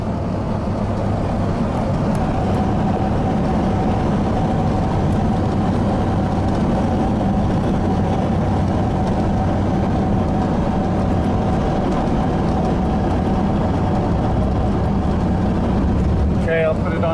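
A 1986 Chevy K-10 pickup engine runs in a steady, constant drone throughout, loud and close, with a faint voice briefly audible near the end.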